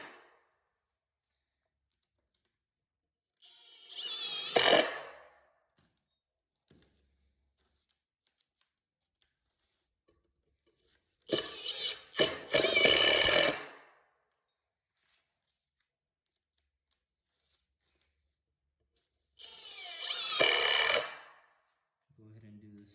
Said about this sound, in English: We'll start off with the drywall screws first, and then we'll move on over to the wood screws.